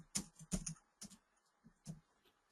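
Keys tapped on a computer keyboard in a few quick separate clusters of soft clicks, close and quiet, with gaps between the bursts and no speech.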